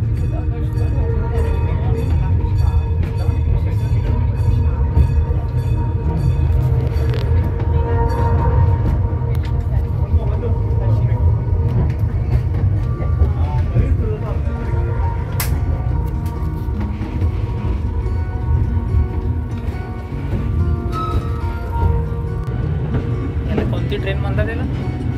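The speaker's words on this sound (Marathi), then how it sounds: "ट्रेन निघाली आहे." A small tourist train pulls away near Herrenchiemsee palace on the Chiemsee island, its steady low engine rumble running close and continuous beneath people talking.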